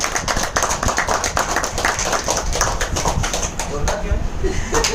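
Dense applause from an audience at a company income and product meeting, a steady rattle of many hands clapping that fills the whole stretch at close range, with voices mixed in.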